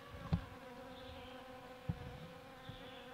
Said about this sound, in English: And you got the bees pollinating.